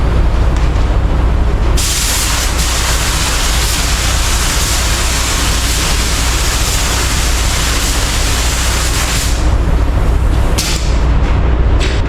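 A spray gun, a Porpoise model, lays down a second coat of clear coat in a loud, continuous hissing spray that runs for about eight seconds, with quieter moments of air before and after.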